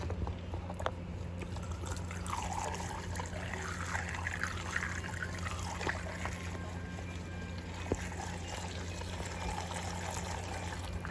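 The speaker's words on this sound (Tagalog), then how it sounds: "Lagyan na muna natin siya ng gas." Gasoline pours steadily into the tank of a Rusi 110 Fury-style motorcycle as a faint, continuous trickle and splash close by.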